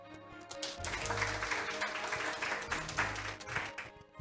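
Audience applause at a semiconductor technology exchange event in Korea, welcoming a company CEO to the stage: dense, sustained clapping from a seated crowd, steady for about four seconds with slight swells, with no talk over it.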